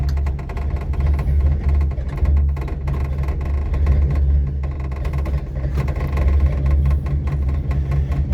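A 1941 Plymouth P11 engine with a worn carburetor and poor choke idles loudly and somewhat unevenly, a deep rumbling chug with slight surges and vibration, heard close up without talk.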